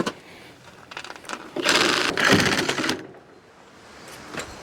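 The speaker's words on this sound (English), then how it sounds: "we're back with our reciprocating saw, also known as a sawzall for everyone" A reciprocating saw fitted with a bimetal blade cuts through nails on a tractor three-point attachment, a loud close burst of rasping buzz lasting about a second and a half amid quieter shop noise.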